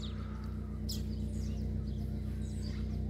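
Papa-capim seedeater birds trade short, bright calls back and forth, with a few chirps spread across the clip over a steady low hum of background noise.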